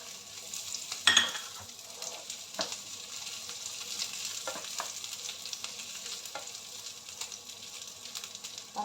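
Garlic and onion sauté in a pan for ginataan na langka, giving a continuous soft sizzle broken by scattered clicks and scrapes of a utensil stirring, with one louder clatter early on.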